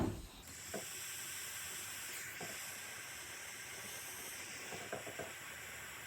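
A handheld steamer hisses steadily onto Solufleece fabric, a soft, continuous airy spray at low volume with a few faint clicks and knocks scattered through it.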